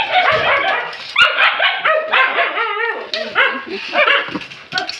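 Several pet dogs bark and yip excitedly in a rapid, overlapping chorus before their morning feeding, loud and close with brief whimpers mixed in, no talk.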